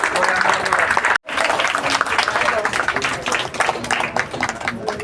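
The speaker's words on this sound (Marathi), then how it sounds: "टाळ्या जरा जोरातच" Loud, dense applause from a crowd welcoming guests at a Navratri maha-aarti gathering, continuous clapping with a brief dropout early on, voices mixed faintly underneath.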